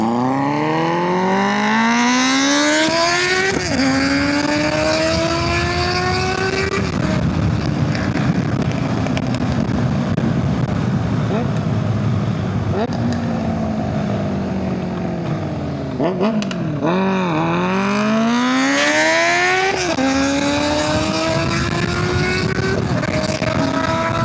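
A Triumph Bonneville motorcycle accelerates hard and loud at close range, its engine note climbing through rising gear changes. There is a dip around a missed shift before it revs up again, with continuous road and wind roar.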